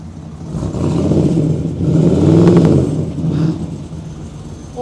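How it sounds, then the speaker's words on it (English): A 1963 Studebaker Avanti's engine rumbles close by. It climbs through a single strong rev that peaks midway and settles back toward idle, with no voices over it. "rev the engine for me"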